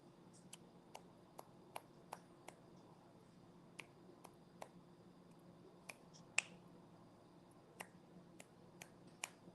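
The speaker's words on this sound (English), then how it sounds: "I'm snapping my fingers" Sharp finger snaps repeated at an irregular pace, roughly a dozen crisp clicks spread across the stretch over a steady low background hum, with no talking, during a bored viewing of a Mexico vs Ecuador World Cup match.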